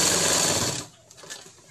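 Electric sewing machine running steadily as it stitches a dhoti shalwar, a continuous close whirring drone that stops abruptly after less than a second, leaving faint handling noise.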